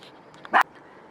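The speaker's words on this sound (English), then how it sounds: "so I just had to make the dog be quiet." A single short, loud dog bark close by in a quiet indoor room, with faint clicks and handling noise around it.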